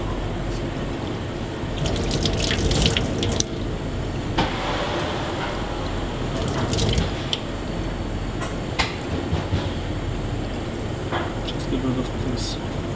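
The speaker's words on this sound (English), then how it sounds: "you just wash it with cold water to get rid of the excess" Cold tap water runs steadily over Norwegian scallops in a restaurant kitchen, a continuous splashing flow with occasional clinks and handling noises, while a voice talks over it.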